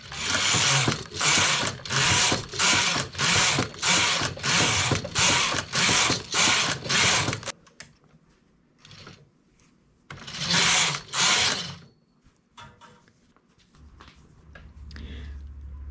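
A knitting machine carriage runs back and forth knitting a double rib border, a rhythmic series of loud ratcheting mechanical sweeps, then quieter clicks and a second short burst.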